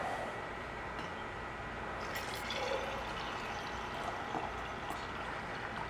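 Filtered water poured steadily into a canning jar of red beans, a continuous close splashing and trickling stream lasting several seconds with no talk.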